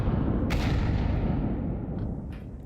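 AK rifle fire in Counter-Strike, a dense, booming burst of shots up close followed by a couple of fainter distant cracks as it fades.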